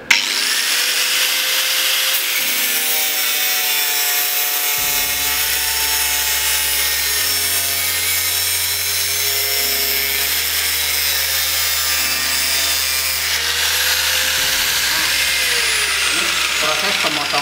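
An angle grinder cuts with no pressure applied, giving a steady, loud, high-pitched whine that runs unbroken throughout, overlaid with shifting tonal hum and someone speaking.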